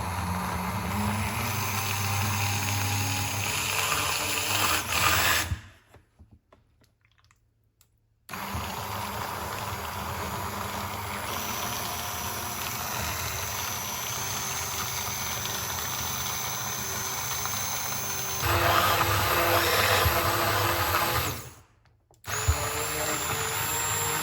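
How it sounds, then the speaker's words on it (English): A handheld stick blender whirs steadily through tomato pasta sauce in a pot, a loud continuous motor drone that cuts off briefly, restarts, rises in pitch and stops again near the end, with no talking. "I'm just using a stick blender in this because I have tried to do it in the pot before and it went everywhere"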